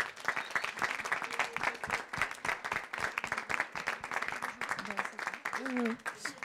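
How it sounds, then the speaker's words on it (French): Audience applause at the closing of the Agri Startup Summit 2018 contest: dense, steady clapping from a crowd fills the whole stretch, with a voice surfacing faintly near the end. "on peut tous vous applaudir pour tout le travail que vous faites tous les jours"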